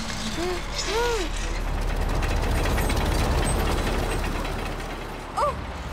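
Levers turning a cartoon mechanism, heard as a steady mechanical grind with ratcheting clicks and creaks that runs throughout, loud and close, with cartoon voices and effects over the start and a brief burst near the end.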